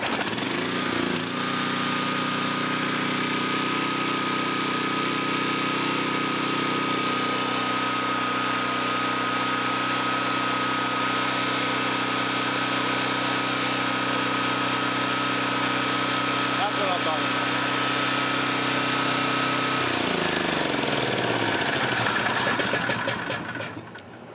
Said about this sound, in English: I set the engine to run, set the choke and pulled it.